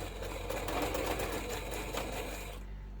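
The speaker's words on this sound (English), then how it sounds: "I'm going to bring my zipper pull down, and before I cut it, I'm going to sew that together." A sewing machine runs steadily for about three seconds, stitching across the zipper end of a crossbody bag, a continuous close mechanical whir that stops abruptly at the end.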